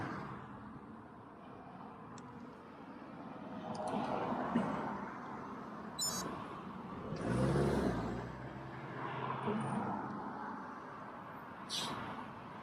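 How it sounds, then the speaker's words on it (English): Road traffic passes on a major trunk route, with a few vehicles swelling by at moderate distance in a steady rolling stream, over a constant low rumble. "This is a major trunk route, carries traffic."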